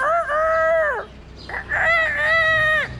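A person imitates a rooster crowing, giving two loud, drawn-out voiced crows close to the listener, with a short pause between them.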